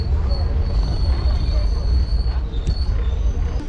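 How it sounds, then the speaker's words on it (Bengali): A passenger train pulls out of Beldanga station, heard from on board as a loud, steady rumble of wheels and carriage noise with a thin high whine and occasional creaks, while voices murmur underneath. "বেলডাঙ্গা থেকে ছেড়ে দিল এখন ট্রেন"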